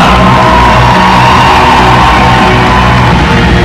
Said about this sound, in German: Applaus für